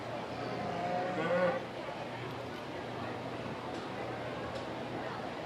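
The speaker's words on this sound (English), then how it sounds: "Now entering the ring will be our market beef heifers, weighing 1167 to 1310." Market beef heifers entering the show ring at a county fair beef show, a low moo heard early amid crowd and hall ambience, followed by a steady murmuring background.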